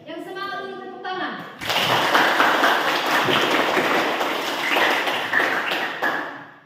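A secondary-school class in a Christian religious education lesson bursts into lively hand clapping for about five seconds, dense and close, right after a teacher's brief spoken line.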